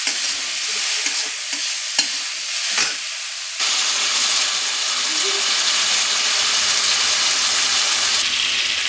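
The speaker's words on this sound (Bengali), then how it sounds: "চিংড়িটা আগে একটু ভালো করে ভেজে নিই" Shrimp fries in a hot pan at home, with a few knocks and stirring scrapes before a steady, loud sizzle takes over and continues to the end.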